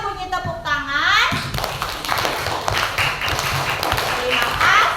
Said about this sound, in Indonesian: Bunyi yang berasal dari aktivitas manusia adalah bunyi Tepuk.